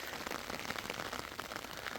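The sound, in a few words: rain falling during orange harvest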